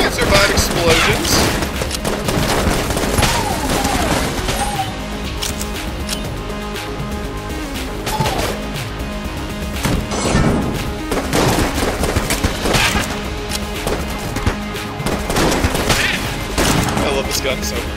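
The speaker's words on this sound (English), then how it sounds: "Explosions." Gunfire and explosions from the video game Enter the Gungeon: loud, dense bursts of shots and booms that keep repeating, with some talk over them.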